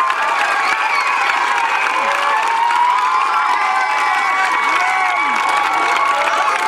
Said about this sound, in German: Bitte gebt ihnen einen kräftigen Applaus